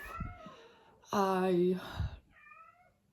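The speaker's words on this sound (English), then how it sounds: "And excuse my cat there." A house cat lets out one clear, drawn-out meow close by, bracketed by a person talking softly before and after.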